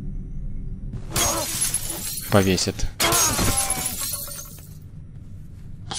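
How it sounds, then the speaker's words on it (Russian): Shop display windows shattering in Condemned: Criminal Origins, two loud bursts of breaking glass with tinkling shards falling, partly overlapped by someone speaking. "Это я разбил витрины"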